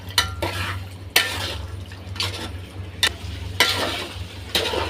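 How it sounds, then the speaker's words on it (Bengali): Broad bean seeds fry in a pan for vegetable khichuri while a spatula stirs them, with a steady sizzle broken by several sharp scrapes and taps of the utensil against the pan. "এটা দিয়ে 1 মিনিট পর্যন্ত এভাবে নেড়ে নেব।"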